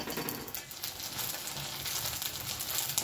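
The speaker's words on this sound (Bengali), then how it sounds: "এইভাবেই আমি সবগুলো ময়দাকে ভেজে নেব।" Flour dough pieces frying in a pan give a steady, close sizzle with faint crackles and occasional light clinks, with no talk over it.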